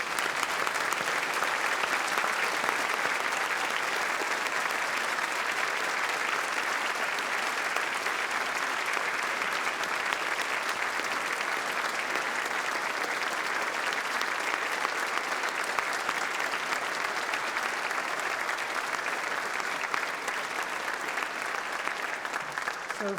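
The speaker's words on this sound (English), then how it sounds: "Could I ask everybody else as well to please also stand and join me in applauding for a final time the success of those graduated" A standing audience applauds graduates at a university graduation ceremony, a broad, steady wash of clapping that fills the hall without pause for over twenty seconds.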